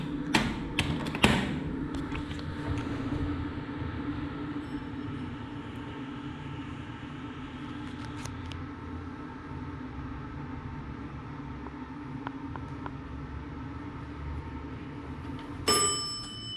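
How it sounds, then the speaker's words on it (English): Basic 1996 Pine State hydraulic elevator at the Washington Street Mills in Dover, New Hampshire, running with a steady low hum, a few clanks and taps near the start and a sharp ding near the end. "The Pine State hydraulic elevator."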